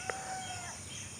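Early morning outdoors, a rooster's crow sounds faint and far off, brief and partly lost in steady background hiss, with no one speaking.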